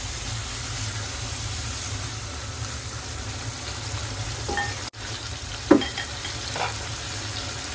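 Prawns stir-fried with chopped potatoes in a pan, a steady close sizzle and bubbling, briefly interrupted before a few clattering stirs of a spatula.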